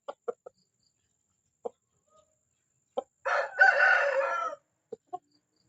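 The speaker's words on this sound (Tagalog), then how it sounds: "Ayan yung manok namin." A pet rooster nearby lets out one loud, drawn-out crow, with scattered short clucks from the chicken before and after it in an otherwise quiet setting.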